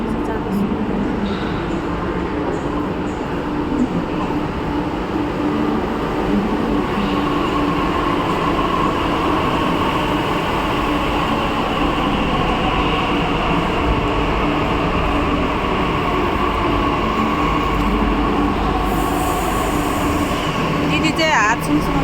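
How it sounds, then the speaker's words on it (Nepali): A metro train rumbles and roars steadily as it pulls into the station, a loud continuous rail drone with faint voices nearby. "हाम्रो मेट्रो आयो जाँदैछु"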